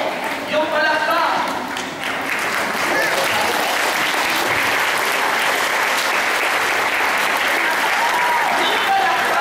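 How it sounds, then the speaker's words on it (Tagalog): Loud, sustained applause fills a church anniversary gathering of a charismatic prayer community in Dasmarinas, Cavite, a dense continuous roar of many hands clapping with crowd noise underneath, steady throughout. "Yung palakpak."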